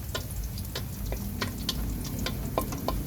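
Garlic sizzling and frying in a pan for a budget misua sotanghon soup with sardines: a steady crackling hiss with scattered sharp pops and light stirring clicks, close and continuous, no talk.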